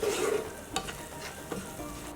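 Green chilli and chopped ginger fry lightly in a pan with spices for samosa chaat, a soft steady sizzle broken by a few sharp spoon taps and stirring scrapes close by.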